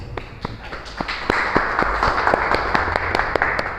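A church congregation claps in a dense, steady round of applause lasting several seconds, with individual sharp claps standing out close by and the sound reverberating in the room, and no voices over it.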